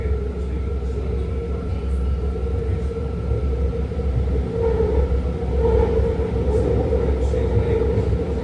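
A six-car BART Green Line train riding and pulling into San Leandro station, a loud steady rumble and rolling roar with a sustained tonal whine, swelling slightly as it slows, with no talk heard.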